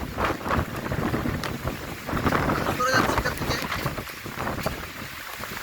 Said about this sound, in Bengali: প্রচুর ঢেউ মেঘনা নদীতে